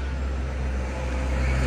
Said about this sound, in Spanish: Los tenemos con sonido ambiente ahorita para que escuchen cómo es el tráfico a esta hora